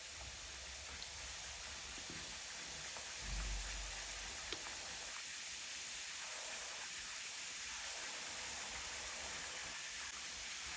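Besan papdi fry in hot oil in a kadai over medium flame, a soft, steady hissing sizzle that swells in a few bubbling bursts, with a low thump early on.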